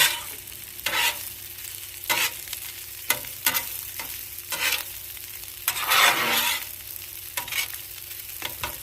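Fried rice and eggs are stirred together in a pan for hibachi-style chicken fried rice: loud repeated metal spatula scrapes and clacks in an irregular rhythm over a continuous sizzle, close up with no talking.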